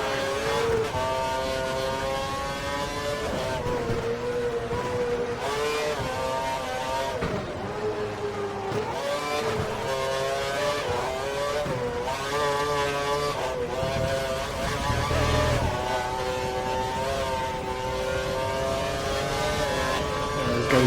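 F1 race cars at the 2012 Korean Grand Prix in a racing game scream past one after another, high whining engines rising and falling in pitch as they pass, loud and continuous throughout, with faint commentary beneath.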